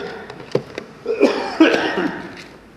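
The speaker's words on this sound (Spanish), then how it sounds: "todavía andamos con los últimos vestigios de la tos" A man coughs several times during a church sermon, a few short sharp hacks followed by two louder, rougher bursts, close and clear in a reverberant room with no talking over them.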